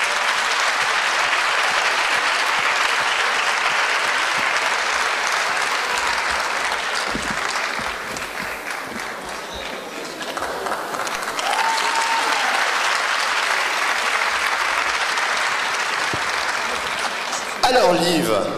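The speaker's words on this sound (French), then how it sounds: "Est-ce qu'on peut applaudir Liv?" Sustained applause from a large audience at an awards ceremony, steady and full for most of the stretch, easing briefly in the middle before swelling again, with a burst of louder clapping near the end.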